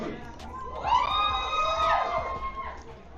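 A crowd at an esports LAN venue for Call of Duty playoffs cheers and whoops, a sustained swell of voices rising and falling over about three seconds at moderate level.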